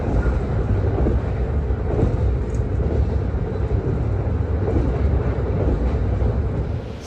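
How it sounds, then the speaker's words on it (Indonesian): Brantas passenger train pulling into Aurgelis station near the Subang–Indramayu border, a steady loud rumble of the moving carriages with rattling and wind noise throughout, heard from inside. "sekarang perjalanan kereta api berantas sudah tiba di stasiun Aurgelis"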